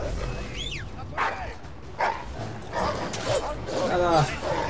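Dogs in Assassin's Creed 3 bark, yip and whimper in several short, lively bursts amid game action, with a person talking over them.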